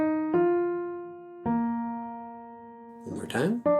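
Sung or played pitched notes of a major pentascale beginning on mi, three sustained steady tones in sequence followed by a brief noisy burst and a final note, clear and close.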